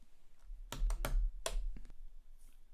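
A few quick keystrokes on a computer keyboard, close and crisp clicks in a short burst, then quiet, with no voices.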